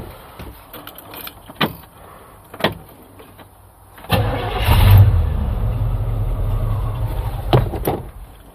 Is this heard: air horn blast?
no